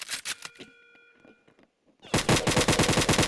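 Rapid video-game gunfire from spam shooting in Roblox: a few sharp shots at the start, a brief lull, then a loud, dense burst of fast repeated shots filling the second half.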